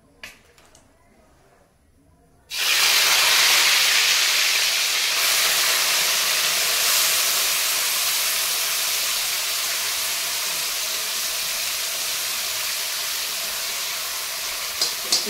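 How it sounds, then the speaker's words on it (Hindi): Fish sizzling as it fries in hot mustard oil, starting with a loud burst of steam and hiss after a quiet moment, then a dense, steady crackle that fades only slightly over time. "तेल गर्म हो गया है, अब इसमें मछली डालेंगे और इसको फ्राई करेंगे अच्छे से।"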